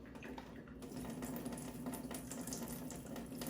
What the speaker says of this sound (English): we want to turn on the RO faucet and let that flush for about 30 minutes